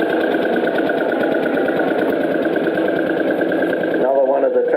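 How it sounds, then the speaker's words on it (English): A 1938-era Lanz Bulldog Model P tractor engine running at a show, a loud steady low thumping chug with a rhythmic knock, with a voice talking over it. "This is a Lance Bulldog Model P, 1938 era."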